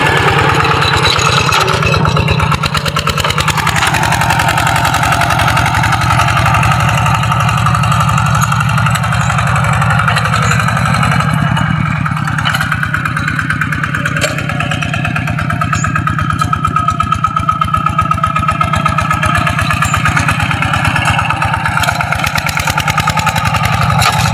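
A tractor engine plowing a flooded rice paddy in Thailand, running loud and steady at close range for the whole stretch, with slight shifts in pitch as the load changes.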